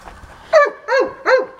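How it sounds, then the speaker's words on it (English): A dog barks three times in quick succession, each bark loud, close and sharp with a slightly whiny edge, evenly spaced after a brief quiet start. "Sorry about the dog."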